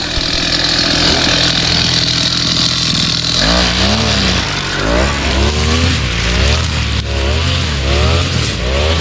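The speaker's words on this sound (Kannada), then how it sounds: "ಇಲ್ಲಿ ಹೊಡಿತಾ ಇದ್ದಾರೆ ನೋಡಿ ವೀಡ್ ಕಟ್ರು" A petrol weed cutter runs steadily and loudly while clearing weeds in an arecanut plantation, its engine note shifting and wavering as it cuts, with no talk over it.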